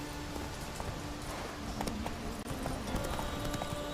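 Horse hooves clip-clop at a steady walking pace in the video game The Witcher 3, faint and continuous, with sparse clicks scattered throughout.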